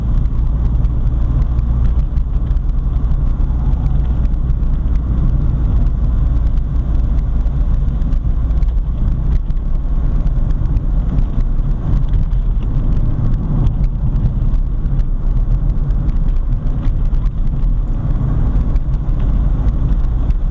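1979 VW Rabbit with a 1.6L diesel engine driving in fifth gear at about three-quarter throttle, a loud, steady engine drone with road rumble heard from inside the car, continuous throughout.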